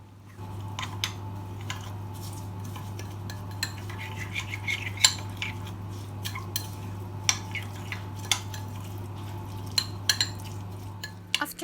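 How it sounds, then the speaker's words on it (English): Metal utensil clinks and scrapes against a dish as sauce for grilled aubergine is mixed, irregular light taps over a steady low hum, fairly faint and close, no talking. "And then mix the sauce."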